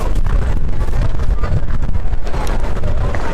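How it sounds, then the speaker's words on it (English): Strong wind buffeting outdoors by a railway line, a loud rumbling roar that gusts continuously. "It's getting really windy out here"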